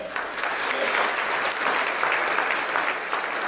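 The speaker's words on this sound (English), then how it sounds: "this guy a round of applause" Sustained applause from a luncheon crowd at a city chamber event, honoring a retiring police chief; dense, steady clapping carries through the whole stretch at fairly close range.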